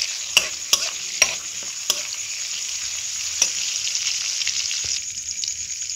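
Bay leaves, cardamom and cinnamon fry in hot butter and oil for chicken stew: a bright, continuous sizzle close by, punctuated by several sharp spoon taps and stirring knocks early on.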